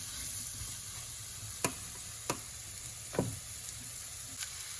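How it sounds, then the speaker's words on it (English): Mushrooms sauté in butter in a pan, giving a soft, steady sizzle with a few sharp clicks of a utensil against the pan. "I'm just gonna saute these in some butter for like a couple minutes"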